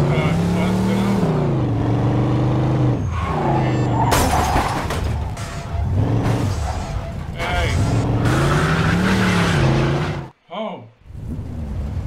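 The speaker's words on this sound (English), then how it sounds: "is Luca's car" A car's engine drives in Mafia II, revving up and down through gear changes at close range, with brief quieter gaps near the end and no voices heard.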